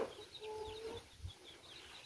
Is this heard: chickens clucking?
yes